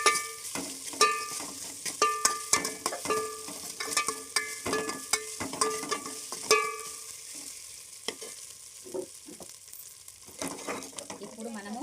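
Curry leaves frying in hot oil for bagara rice, a steady crackling sizzle with sharp spits and pops and occasional stirring clatter, close and fairly loud, fading slightly toward the end.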